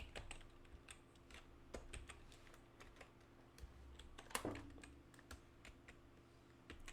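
Fingers typing C code on a computer keyboard, a quiet, close run of irregular key clicks with a few sharper taps and one louder clack midway, no talk.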